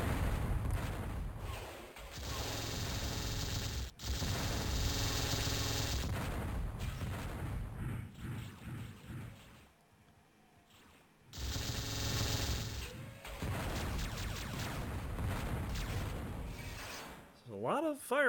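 Naval guns firing in a multiplayer ship battle game, loud dense volleys in two long bursts separated by a brief lull, with talk running over the barrage.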